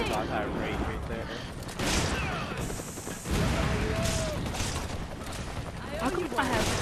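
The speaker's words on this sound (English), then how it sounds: "I can hear gunfire." Gunfire in a Resident Evil 5 Versus match, with bursts of shots and crashes mixed with game effects and a voice talking over them throughout.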